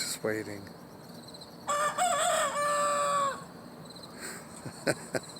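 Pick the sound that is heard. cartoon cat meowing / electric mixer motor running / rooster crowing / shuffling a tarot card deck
rooster crowing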